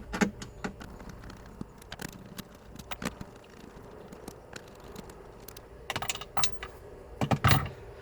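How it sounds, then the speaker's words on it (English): Four screws come out of the dash screen of a 2019-or-later Ford Ranger, giving quiet, scattered clicks and tool taps at close range, with a small cluster of sharper clicks near the end. "We're going to do so by removing these 4 screws."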